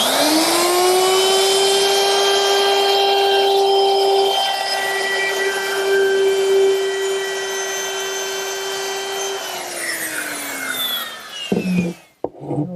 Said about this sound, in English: To make that round over, I'm using a 3/8 inch radius round over bit